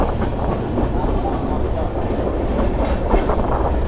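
An express train rolls near Haflong station with a loud, continuous rumble and rattling wheel noise, dense and steady throughout with no pauses.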